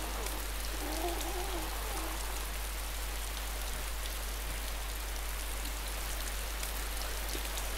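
Steady rain falling in the video game DayZ, a constant even hiss of drops spread across the whole clip, with a faint low murmur briefly near the start.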